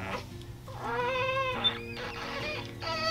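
A kitten meows in a rising, drawn-out call and then a second shorter cry, close and fairly clear above a low steady hum, with no talking.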